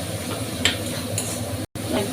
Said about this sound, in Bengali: একটু এটা ভেজে ভেজে নেবো।